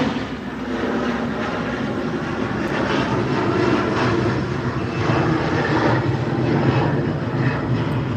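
An airplane takes off in a steep ascent from Newark Airport, a loud, continuous roaring engine rumble that holds steady throughout with no voices.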